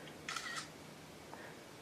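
A 5th-generation iPod Touch camera gives a quick, faint, synthetic shutter click in two short bursts, followed by quiet room tone.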